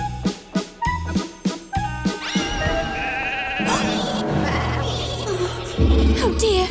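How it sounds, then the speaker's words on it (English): Cartoon sheep let out a rapid run of short, loud bleats, then a jingly, tinkling musical flourish and more animated effects take over. "We'll add some sheep."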